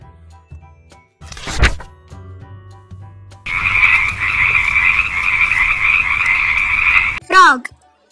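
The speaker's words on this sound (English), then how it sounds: "Frog." A frog croaks in a steady, loud, rasping trill lasting several seconds, preceded by a few soft clicks and a thump and followed by a brief chirp.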